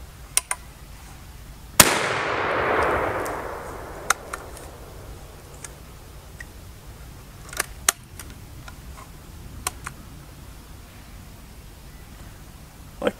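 A short-barreled 12 gauge shotgun fired once from the hip, one sharp loud blast with a rolling echo tail, followed by faint clicks and handling noises.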